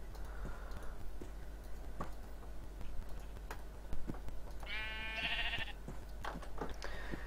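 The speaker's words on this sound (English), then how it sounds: "Why are there stupid sheep everywhere?" A sheep bleats once in the Minecraft video game, a short wavering cry rising over a faint, steady background with scattered soft clicks and ticks, and no one talking.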